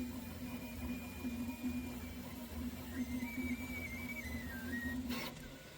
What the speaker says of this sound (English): Could the fan shroud itself be whistling?